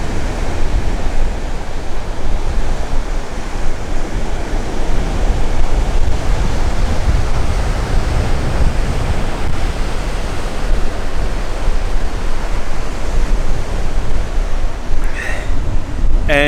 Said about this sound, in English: This is the beach at Kingston.